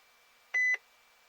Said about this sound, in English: There we go, there's the beep.